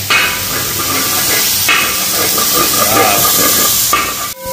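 Chicken pieces fry in a pan for chilli chicken, giving a loud, continuous close sizzle and hiss with stirring scrapes throughout, ending in a sharp metallic clank.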